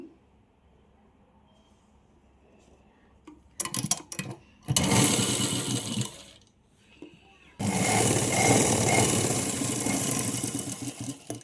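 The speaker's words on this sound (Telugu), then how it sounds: "ఇక్కడ మళ్ళీ ఇంకో స్టిచ్చింగ్ వేస్తున్నాను" A sewing machine stitching a simple umbrella frock starts with a few short bursts, then runs in two loud sustained spells of rapid needle chatter with a brief pause between, no talk.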